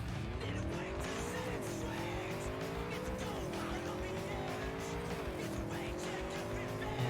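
A car in the Cyberpunk video game slides on the handbrake with a sustained skid and tire squeal over a steady engine drone, the pitch dipping and rising in repeated sweeps, loud and continuous throughout.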